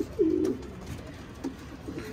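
Racing pigeons coo in short, throaty bursts, a clear call near the start followed by softer repeated coos, close by and otherwise quiet.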